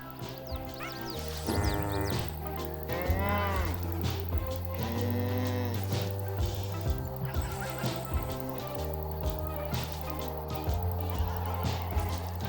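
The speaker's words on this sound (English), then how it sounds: "Excuse me, cow. How are you?" Farm animal sounds come from a cow character in the video game Spirit Swap, repeated neighing and whinnying calls over game music, close and fairly loud, with no one talking.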